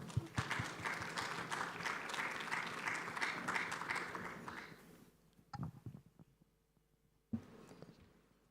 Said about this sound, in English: Mr. Boima Kamara, ladies and gentlemen, a round of applause.